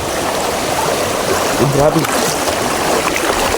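A strong river current rushes steadily during a crossing on foot, a constant broad roar of flowing water close by. A man's brief exclamation cuts through it.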